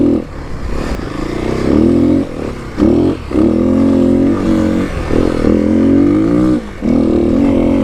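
A Kawasaki KLX300 dirt bike rides over desert whoops, its engine buzzing loud and close in repeated revving surges that rise and dip with brief drops between bumps.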